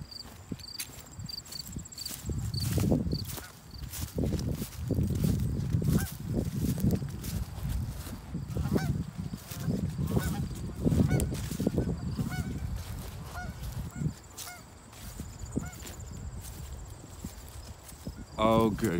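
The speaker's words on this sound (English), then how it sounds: "Oh, good God, look at all those Canadian geese." A flock of Canada geese honks repeatedly outdoors, with a busy, overlapping chorus of calls that rises and falls across the whole stretch, alongside footsteps and a person talking.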